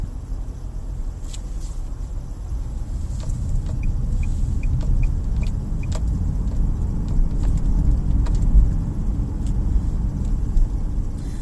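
A car drives through a roundabout in Ireland, heard as a continuous low road and engine rumble from inside the vehicle, with a short run of soft regular indicator ticks partway through.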